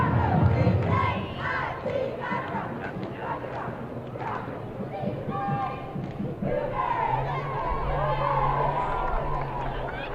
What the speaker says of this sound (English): Great cheer from the Cougars.